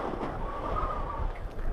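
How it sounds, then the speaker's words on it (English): Strong wind blows across the Greenland ice sheet as a steady, broad roar that buffets the microphone, with no other sounds standing out. "It is incredibly windy"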